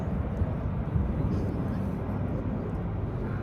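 Steady roar of Red Arrows jets during a display at the RIAT air show, a continuous broad rumble of engines from a distance with a commentator talking over it.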